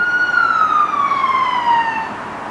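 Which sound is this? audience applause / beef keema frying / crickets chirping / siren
siren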